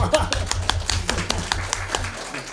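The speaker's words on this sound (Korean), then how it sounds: "저한테 좀 박수 좀 쳐주세요" Scattered applause from a forum audience rattles along steadily while a voice keeps talking over it.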